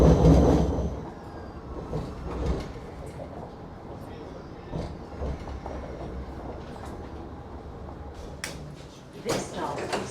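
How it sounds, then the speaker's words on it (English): Riding a Sydney light rail tram toward Circular Quay, a low rolling rumble with occasional wheel clicks and squeals fills the carriage, while a voice speaks over it intermittently. "We're starting off in the CBD by catching a light rail from near the QVB building to Circular Quay."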